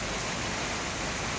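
Heavy rain falls on a roof in a loud, unbroken wash of patter that stays even throughout the short stretch.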